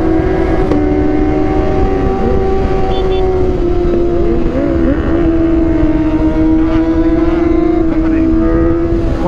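A group of Kawasaki ZX25R motorcycles touring on the Pantura road, a loud steady high-revving engine drone with pitch sweeping up and down as throttle changes, heavy wind rush underneath.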